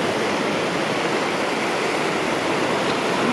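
Waves wash onto a beach in a steady, loud, even rush of surf noise with no distinct breaks and no voices.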